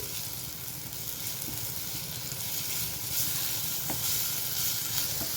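Ginger garlic paste frying with turmeric and browned onions for an okra tomato curry gives a steady close sizzle and hiss, with faint stirring clicks and no talk.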